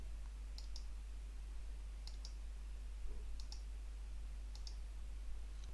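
A computer mouse is clicked in four quick, quiet double clicks spaced about a second apart, heard over a low, steady electrical hum.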